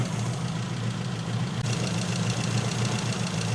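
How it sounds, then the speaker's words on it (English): A car engine idles steadily on SU carburettors during mixture tuning, a constant low rumble with a slight knocking texture, close and continuous without any speech. "I'm waiting for that mixture idle to settle down"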